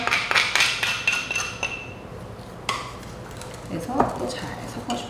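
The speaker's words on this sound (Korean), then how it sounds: "그래서 또 잘 섞어줍니다." A spoon clinks and scrapes against a bowl while seasoning sauce with ground garlic is stirred together for cucumber perilla-oil noodles, a quick burst of rapid taps followed by scattered knocks, close, with a voice talking over part of it.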